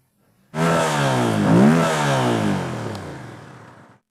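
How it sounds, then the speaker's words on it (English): A 2025 Yamaha MT-07 motorcycle's cross-plane engine revs up sharply, the pitch climbing and dipping through one loud rev before settling into a steady, gradually fading idle, close by. "the sound of the new MT-07"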